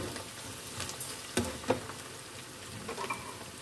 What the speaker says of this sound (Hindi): ऑयल में हम प्याज को मिक्स कर लेते हैं और प्याज को हम फ्राई कर लेते हैं।